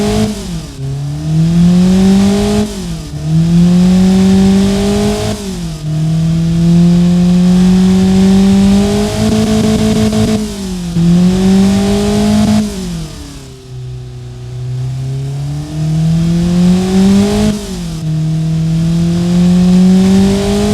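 A simulated Honda K24A1 engine fitted with a new exhaust revs repeatedly in the Automation game, each loud pull rising steadily in pitch before dropping back, the strong droning tone repeating in a regular rhythm.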